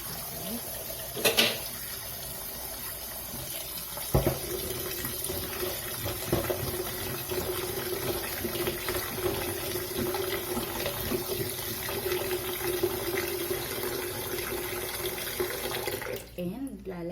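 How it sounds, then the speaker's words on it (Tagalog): Tap water runs steadily into a cooking pot holding potatoes, a continuous splashing fill lasting most of the stretch with a few small knocks, fairly close and alone, ending abruptly near the end. "So, lalagyan ko siya ng tubig."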